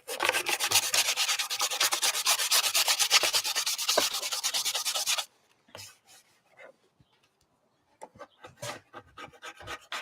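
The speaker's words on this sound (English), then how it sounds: "I think I got the last of it right there with that last scrape." Tape adhesive being scraped off a thrift store tray, heard as a steady, fast rasping scrape up close for about five seconds, then silence broken by a few short scrapes and taps.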